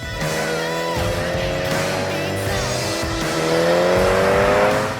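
A Mini Cooper JCW accelerates hard with its wheels spinning, the engine note rising steadily while tires hiss and squeal continuously, loud and close throughout.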